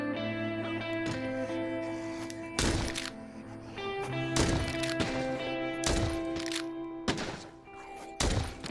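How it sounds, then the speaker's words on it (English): Lever-action rifle shots in the zombie game The Walking Dead: Saints and Sinners, with several sharp, loud reports at irregular intervals over a steady musical background. "This is another prime example of why I love the lever-action rifle."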